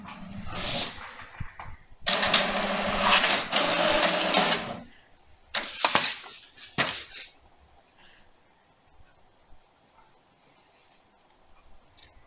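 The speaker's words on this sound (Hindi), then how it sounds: "तो मैंने ये प्रिंट दिया और देखिए ये प्रिंट आउट आपका बाहर आ गया।" An HP Wi-Fi 4178 wireless colour printer with a scanner and document feeder prints a page: loud whirring feed bursts start and stop, then fade into softer intermittent clicks and ticks, close by with no talk.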